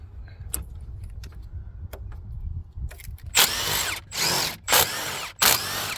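Power tool driving out 15 millimeter bolts on an AC unit during a thermostat install: after faint clicks and taps, four loud whirring bursts in quick succession, each about half a second long.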